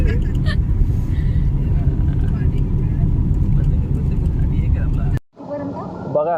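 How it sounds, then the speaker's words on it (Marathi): Dense road traffic heading to a fair hums as a steady, loud engine drone throughout, briefly dropping away near the end, with a person talking over it. "बघा काय ट्रॅफिक आहे."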